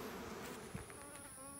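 Honey bees buzz around a hive super in a river bee yard, a faint steady drone with a soft outdoor hiss and no voices.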